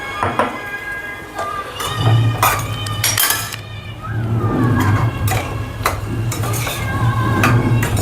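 Metal utensil scraping and clinking against a pot while chopped tomatoes and salt are stirred for tomato soup, with intermittent clanks over a low steady hum.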